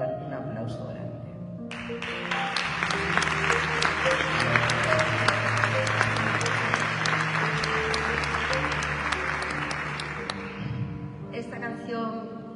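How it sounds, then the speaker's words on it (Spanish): Applause from a concert audience at a copla and flamenco show, a dense sustained burst of clapping lasting several seconds before tapering off, with a singer's voice heard before and after it. "Y le quiero dar un aplauso grande."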